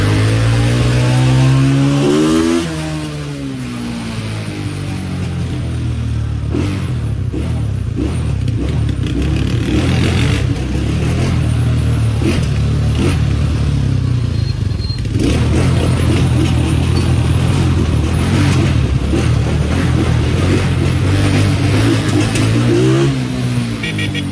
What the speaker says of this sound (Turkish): Motorun şu an gaz veriyor kendine.